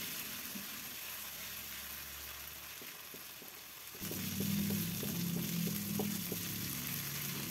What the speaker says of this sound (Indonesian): Setelah panas, masukkan bumbu halusnya. Kita tumis sampai harum.